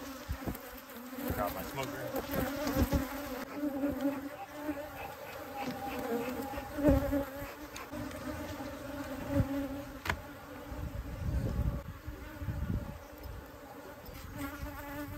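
A dense buzzing swarm of wild Texas bees surrounds a beekeeper at close range, a steady drone with rustling and handling noises, and someone speaks briefly over it.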